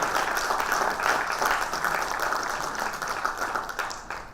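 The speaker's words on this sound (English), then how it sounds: "I can even ask the audience to give a clap in his memory for this great achiever" An audience applauds steadily, dense clapping that holds for several seconds and then begins to fade.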